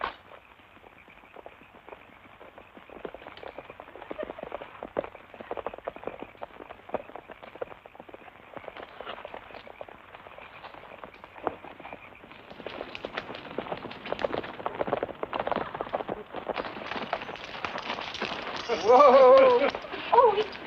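Horses gallop with rapid clip-clopping hooves that build in density and loudness, with voices calling out near the end.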